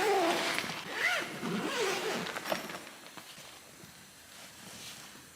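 Seat covers pulled from a zippered bag, a few quick zipper rasps followed by rustling and handling of fabric that fades to quiet shuffles, close and fairly soft.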